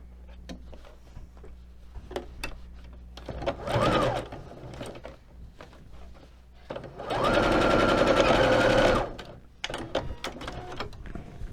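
A sewing machine stitches a closing seam along a ribbon on a ruffled vest, with a short burst of stitching followed by a longer steady run, separated by quiet handling clicks.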